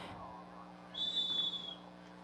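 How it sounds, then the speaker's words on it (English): An ultimate frisbee game advisor blows a single shrill whistle at an international match, a clear steady tone of about a second that stands out over quiet crowd ambience. "that's a second whistle signaling from another game advisor about the time that has elapsed discussing this call"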